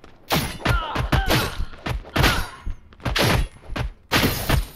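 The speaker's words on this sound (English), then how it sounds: "I'm just shooting people." Rapid bursts of gunfire and impact thumps from the online video game Predecessor, loud and dense, several clusters of shots following each other without pause.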